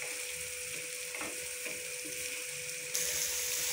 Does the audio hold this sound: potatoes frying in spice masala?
yes